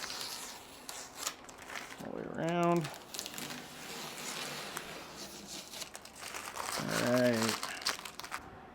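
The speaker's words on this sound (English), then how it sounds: "peel our tape so we can see our adjustment we're working with" Masking tape is peeled off a Ferrari body panel after a panel gap adjustment in a workshop. It gives soft, close crinkling and rubbing sounds, with brief voice-like sounds in between.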